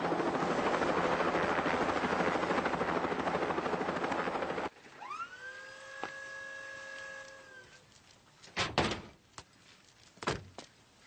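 A helicopter roars loudly and steadily for about five seconds, then cuts off abruptly. A quieter scene follows with sustained tones and a few sharp door-like thumps.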